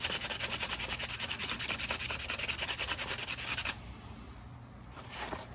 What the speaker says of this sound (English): I'm gonna put it on a piece of sandpaper just like this on a flat surface, and I'm gonna sand it down.